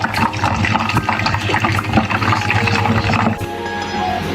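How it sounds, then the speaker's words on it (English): Pork belly fries in hot oil, giving a busy, crackling sizzle with scattered pops and spatters that eases off near the end. "now that we've fried all 4 sides, we're gonna take it out."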